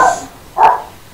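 A single short dog bark lands near the middle, loud and close, with a fainter yelp-like sound at the very start and quiet background otherwise.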